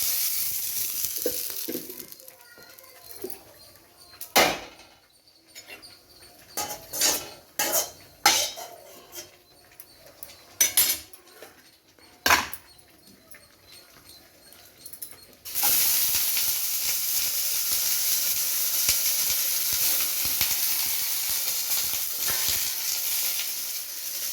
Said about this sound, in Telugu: ఈ ఎర్రగడ్డలు కూడా వేగుతున్నాయి.